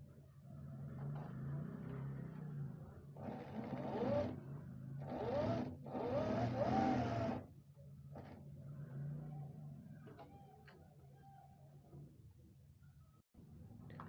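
A sewing machine stitches a pocket in short bursts, with three quick whirring runs in the middle and quieter handling noise around them.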